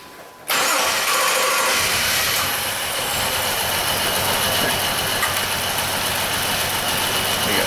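A Jeep Liberty with a crank-no-start fault turns over, the starter kicking in abruptly after a short quiet moment and then a loud, steady mechanical churning that continues without the engine catching.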